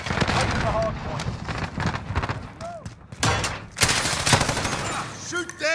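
Call of Duty Modern Warfare Hardpoint match gunfire, sustained rapid automatic bursts and thumps filling the whole stretch, loud and close, with in-game voices over it.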